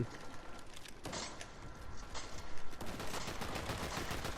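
Rapid gunfire from the video game Fortnite crackles in dense bursts throughout, with sharp shots and a heavier barrage in the second half, loud and continuous with no talk.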